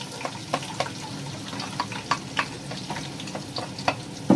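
Finely chopped onion with green cardamom and dried coriander fries gently in a pot, giving a soft low sizzle under a string of light spoon taps and scrapes, close and quiet, no talking.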